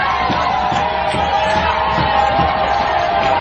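Crowd cheering euphorically to welcome a politician in Parakou, a dense continuous roar of shouting, whooping voices, loud and close throughout.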